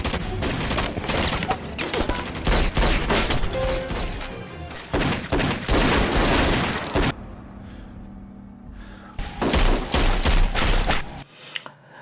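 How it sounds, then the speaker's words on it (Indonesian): A gunfire shootout in an action film: dense, loud bursts of automatic fire and booms pour out continuously. A brief lull with a low mechanical hum follows before another heavy volley. "Setelah itu terjadilah baku tembak"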